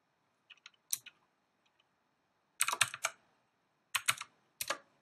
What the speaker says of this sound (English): Run that, click on the run button.